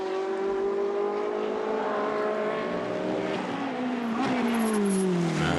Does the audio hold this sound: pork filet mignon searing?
no